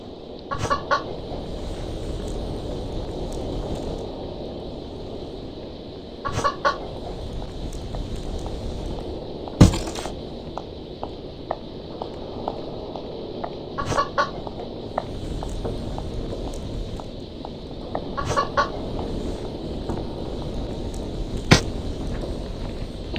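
In the Evil Nun horror game, a chicken clucks in repeated short bursts every few seconds over a constant low ambient hum, with occasional sharp clicks and no voices.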